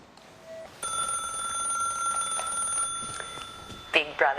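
A telephone rings in the Big Brother Australia house, a steady electronic tone that starts abruptly and holds through the call setup, with a voice speaking briefly over it near the end.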